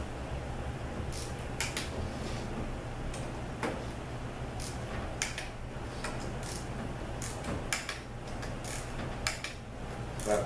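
A ratcheting torque wrench tightens valve body bolts on a ZF6HP26 transmission, with scattered sharp ratchet clicks in short bursts, fairly close, over a quiet background hum.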